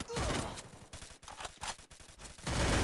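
Rapid bursts of video game gunfire in Free Fire crackle in quick volleys, loud and close, with brief gaps between strings of shots.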